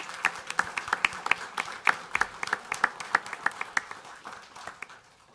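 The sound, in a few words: applause at a city council meeting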